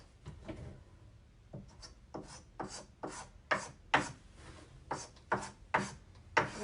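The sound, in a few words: scraping paint onto wooden furniture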